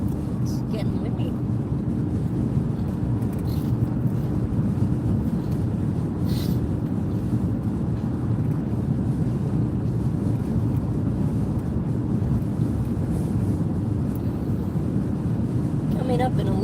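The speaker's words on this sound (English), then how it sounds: "Oh, it's getting windy." Continuous low rushing wind noise buffets the microphone on a road trip along the National Road, a steady roar with a few faint background clicks, no clear voices.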